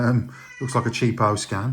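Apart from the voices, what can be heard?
cat meowing, complaining in the background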